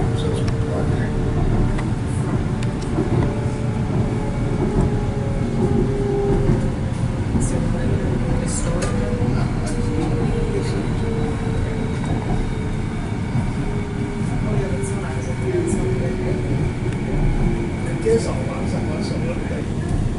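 A Canada Line metro train bound for Waterfront rumbles along the track with a steady, loud low roar, faint squeals and clicks rising and falling throughout, and no talking.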